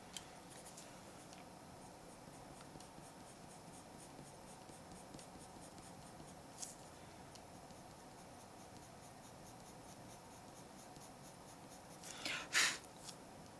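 Colored pencil laid softly on paper in quick light layers, a faint steady scratchy stroking that runs quietly throughout, with a brief louder rustle near the end.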